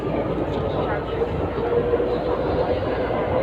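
An MRT train arriving in Taipei rumbles steadily nearby with a dense, continuous roar and faint rail clatter, voices barely audible underneath.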